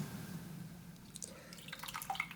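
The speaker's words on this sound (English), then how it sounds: "So here the jackfruit strips, which is dried, is being washed." Water splashes and drips faintly as dried jackfruit strips are washed in a Kerala kitchen, soft scattered trickles over a low background hum, with no voices.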